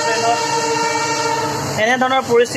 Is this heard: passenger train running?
yes